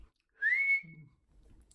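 A person attempts a whistle, producing one short, thin rising tone that fades quickly, faint and alone in quiet surroundings.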